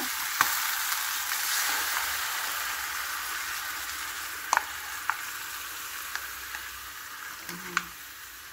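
Coconut milk poured into a hot pan with a yellowfin tuna head, with eggplant and chili nearby, gives a steady close sizzling hiss with occasional sharp pops and crackles throughout.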